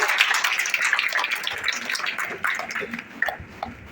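Applause from an audience at the closing of a five-day cartoon workshop, a steady wash of many hands clapping at moderate loudness that thins out toward the end.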